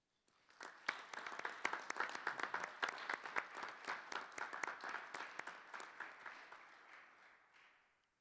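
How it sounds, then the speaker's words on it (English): Audience applause at a school board meeting, a quiet, steady patter of many hands clapping for several seconds before tapering off and fading out. "So help me congratulate and cheer for Miss Courtney Sweeney."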